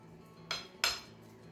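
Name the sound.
spoon pressing potato base into casserole dish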